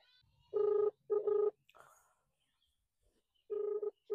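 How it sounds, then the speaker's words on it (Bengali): A telephone keypad dialling to place a call, with three distinct short tones in a quiet room, two close together and one after a pause, with a faint rustle between them. "বাস এবার মিষ্টাকে ফোন করি"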